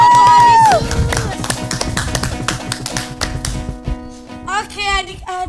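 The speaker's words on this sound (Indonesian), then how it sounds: "Tepuk tangan buat Tuhan Yesus." Children at an online church service clap their hands in a brisk burst of irregular claps under music and voices, the clapping thinning out toward the end.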